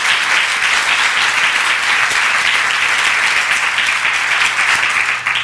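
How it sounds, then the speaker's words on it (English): Audience at a women's leadership luncheon applauding, a dense, steady wash of many hands clapping at close range that holds evenly for several seconds before easing off at the very end. "So give yourselves a round of applause."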